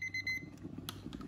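A kitchen timer alarm rings during cooking of black sticky rice porridge (bubur ketan hitam) after a 7-minute stage, giving a brief burst of shrill repeated electronic beeps that stop quickly, leaving soft cooking noise.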